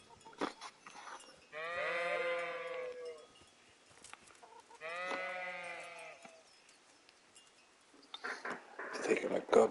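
Two long, quavering sheep bleats in Kingdom Come: Deliverance, close and clear with a gap between them, followed by brief scattered noises at the end.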